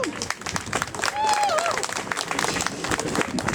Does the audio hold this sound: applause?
yes